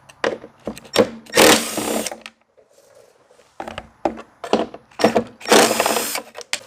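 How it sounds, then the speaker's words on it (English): Short bursts from a power driver backing out the engine shroud screws on a Stihl BR700 backpack blower, loud and close, with a brief quiet gap between the runs of whirring. "Now the engine shroud cover has 1, 2, 3, and 4 screws that need to be removed."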